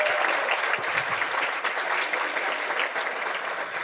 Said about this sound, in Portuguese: Vamos dar uma salva de palmas aí para eles, né, família?